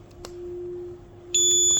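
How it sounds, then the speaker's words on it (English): A Visionuk wireless addressable smoke detector alarm sounds with a steady electronic tone that jumps into a louder, piercing high beep near the end, close and clear. "Then you trigger any of the smoke detector"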